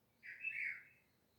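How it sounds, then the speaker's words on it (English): A single short bird chirp, faint and somewhat distant, rises briefly out of a quiet background. "The birds chirping,"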